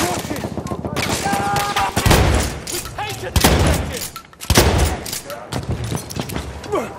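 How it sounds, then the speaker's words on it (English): Battlefield 1 combat: rapid machine-gun and rifle fire runs throughout, with heavy thumping booms from a grenade blast. Voices and radio callouts come over the noise of the battle. "Throw the grenade, watch it!"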